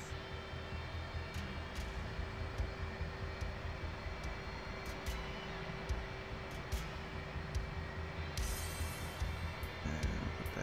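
An aircraft engine whining and rumbling steadily while taxiing to the runway in the video game DCS World, fairly faint with a constant tone and scattered small clicks.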